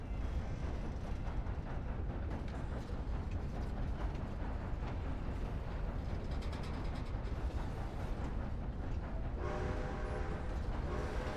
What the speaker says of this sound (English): Derail the train.